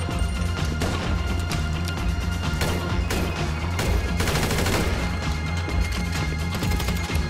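Heavy, continuous gunfire from GTA Online during the Pacific Standard heist, loud overlapping bursts and cracks forming a dense, unbroken barrage.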